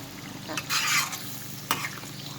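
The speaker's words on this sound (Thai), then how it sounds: "แล้วก็ใส่หอมลงไปหอมแดงนะคะ อันนี้เราแบ่งทอดสองชุดนะคะ แล้วก็คนให้มันกระจาย" Shallots and shredded pork fry in a pan while being stirred, with a steady sizzle underneath and a louder scraping swirl of the spatula in the middle, followed by a sharp clink.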